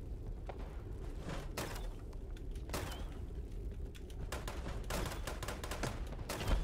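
Video-game gunfire with grenade-launcher shots, a string of sharp, fairly quiet bangs spaced irregularly over a low background, growing denser toward the end.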